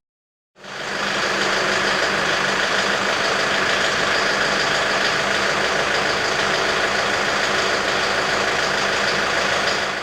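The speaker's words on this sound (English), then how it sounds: "the sort of audible knocking sound that we've come to expect from older diesel engines" An older diesel engine without pilot injection idles steadily and close by, a constant rumbling drone with a rapid, even knocking clatter running through it from start to finish.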